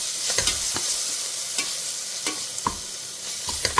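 Ginger-garlic paste, onion and green chilli sautéing in a pan for a South Indian mutton head curry: a steady close sizzle broken by several sharp spatula scrapes and stirs, with no voices.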